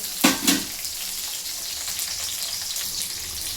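Tomato and onion fry in a pan for a village-style bassaru, a steady close sizzle after two sharp splattering bursts at the start, no voices.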